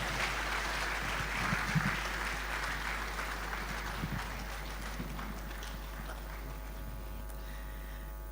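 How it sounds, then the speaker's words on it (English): Applause from an audience at a university summer school session at KNUST, honoring a professor after a talk; steady, dense clapping over a constant low hum, fading slightly toward the end. "let's give Prof. Aite another round of applause."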